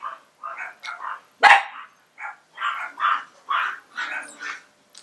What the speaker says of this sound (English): You hear my dogs? They're all barking